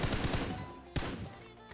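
Automatic gunfire in the mobile shooter PUBG Mobile, with several quick bursts of shots at the start, one sharp shot near the middle and another near the end, its in-game volume turned down.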